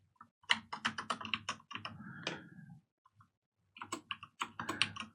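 Close, quiet computer keyboard typing comes in quick bursts of crisp key clicks, pausing briefly before another flurry of keystrokes.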